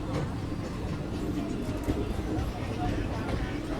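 Vikarabad–Guntur Palnadu superfast express pulling out of Begumpet station, a continuous low rumble of rolling wagons and wheels on track with a steady mechanical drone, and indistinct voices in the background.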